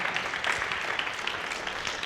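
Crowd applause at a cycling event ceremony for the 55th Giro Internazionale del Friuli Venezia Giulia, a dense steady wash of clapping held at an even level throughout.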